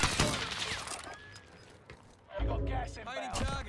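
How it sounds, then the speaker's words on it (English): Game gunfire from a shooter match as a player fires at an enemy on a roof, with sharp cracks at the start and near the end mixed under excited player talk. "Shooting the guy on the roof."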